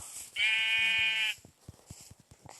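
A sheep in the video game Minecraft gives one drawn-out, nasal bleat lasting about a second, loud and close, followed by a few soft clicking taps.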